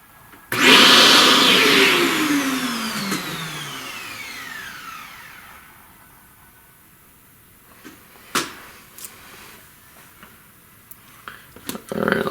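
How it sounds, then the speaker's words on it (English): A vacuum cleaner switches on abruptly to clean loose dust off a charcoal bear drawing, roaring loud and close. Its whine then winds down over several seconds, followed by a few faint knocks and handling noises. "Let's vacuum that."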